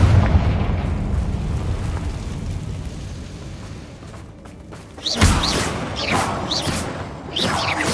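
A Confringo fire spell bursts in Hogwarts Legacy, landing as a deep boom with a rumbling tail and then a sharp new blast that sets off crackling bright effects. Further pops follow over a steady low game rumble.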